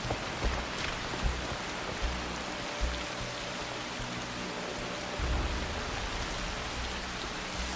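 Video game rain falls as a soft steady hiss of drops, fairly quiet and constant, with a few faint low thuds along the way and no speech.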